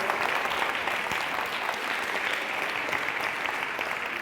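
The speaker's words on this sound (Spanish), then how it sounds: "No es bueno reprimir un aplauso." Sustained audience applause at a Spanish science club talk, an even, dense wash of clapping from a sizable crowd that stays steady and fairly loud from start to finish, with no speech over it.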